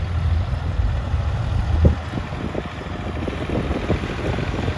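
Two tractors ploughing a field together on a sunny day, heard as a steady low engine rumble with rattling and some wind noise throughout, no talking.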